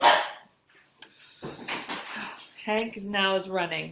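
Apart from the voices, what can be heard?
dog Ziggy barking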